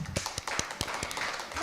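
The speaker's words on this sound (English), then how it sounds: "Let's give applause to" Applause for a guest speaker during an international webinar: a handful of separate, sharp claps spaced irregularly across a short stretch, close to the microphone and fairly thin, like only one or two people clapping.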